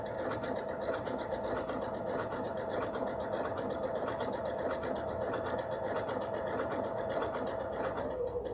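Sewing machine stitching fabric with a continuous, even mechanical whir and rapid needle patter, moderately close and running steadily throughout.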